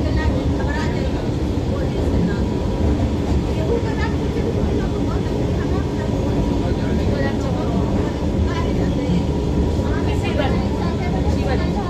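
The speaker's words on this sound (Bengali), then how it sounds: "তো দেখো বন্ধুরা এখন কিন্তু ট্রেন চলছে" A train in motion heard from inside a carriage, a dense, steady rumble and rattle of wheels and running gear that fills the whole span at a loud, even level.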